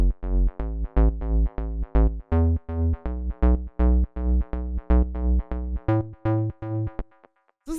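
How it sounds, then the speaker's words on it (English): Melodic house synth bass plays a chord progression on root notes in steady, punchy pulses, loud and upfront with a rhythmic pumping feel, alone throughout. "So the first sound inside of here is the bass, which sounds like this."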